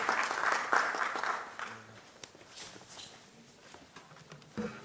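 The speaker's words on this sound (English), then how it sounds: "please welcome and give him a round of applause as he comes" Applause from a conference audience in Kenya, a broad hiss of clapping fairly loud at the start, then thinning and fading into scattered claps and quieter room noise.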